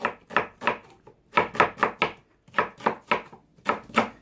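Knife finely chopping onion on a board for veg muffins, a rhythmic series of crisp, close cuts in quick bursts with brief pauses between them.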